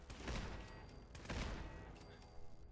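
Turret gunfire in the Fallout 4 video game comes in faint, quick bursts, with a couple of heavier thuds standing out among a steady rattle of shots.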